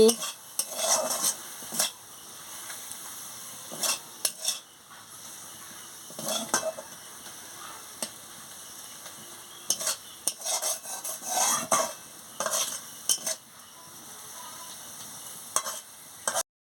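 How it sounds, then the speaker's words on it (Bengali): Khasla greens curry with mustard paste and green chillies being stirred in a pan after the lid comes off: repeated close scraping and clattering strokes of a spatula against metal, in uneven bursts over a low simmer. "এবার আমি ঢাকাটা খুলে নিচ্ছি, করে একটু নাড়িয়ে নিচ্ছি"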